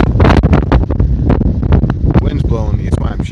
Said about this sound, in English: Look at the trees blowing. There they go. There's a little gust.